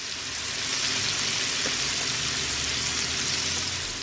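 A steak sears in a frying pan with a steady, dense sizzle that stays loud and close, continuous with no talking.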